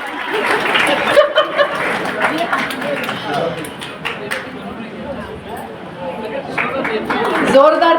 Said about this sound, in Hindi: जोरदार तालियां हो जानी चाहिए